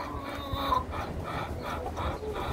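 A flock of large four-month-old Australorp hens and roosters clucks softly and murmurs close by, with scattered calls over a continuous farmyard bustle.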